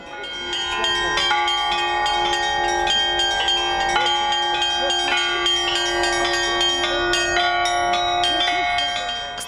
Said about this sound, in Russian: Улицу наполнил колокольный звон.